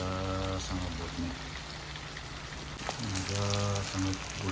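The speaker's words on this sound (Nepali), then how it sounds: "यसलाई मजासँग भुट्ने।" Goat meat fries in a pan with ginger, chili and garlic, giving a continuous close sizzle and crackle while a person talks over it at the start and end.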